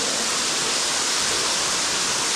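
Inside a cave, a waterfall roars in a dense, unbroken rush of falling water, loud and close with no other sounds.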